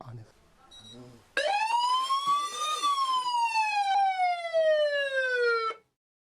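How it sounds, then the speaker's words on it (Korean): A guesthouse's internet-connected fire-detection alarm: a loud electronic siren wails in one long sweeping tone that rises then slowly falls, sounding alone after a brief low hum. "긴박한 경보음이 울림과 동시에"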